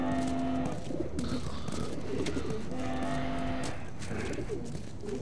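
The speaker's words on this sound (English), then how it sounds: "It's got pigeons." Pigeons coo repeatedly in The Last of Us Remastered, soft rolling calls recurring in several bursts over a busy game ambience, fairly close, with no talk.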